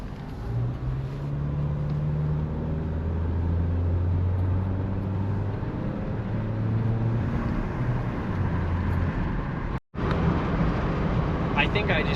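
A Toyota Tacoma pickup accelerates onto a highway, with a steady loud engine drone and rising tonal hum over road and wind noise that holds throughout, broken by one brief dropout near the end.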